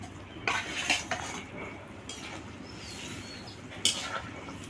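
Fried koi fish tipped into a cooking pan of curry with lentil dumplings and eggplant, giving a few clinks and clatters of utensil against the metal pan, with soft stirring and scraping between the louder knocks.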